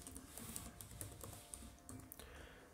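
Quiet, close typing of a password on a computer keyboard: a quick irregular run of light key clicks with no talking.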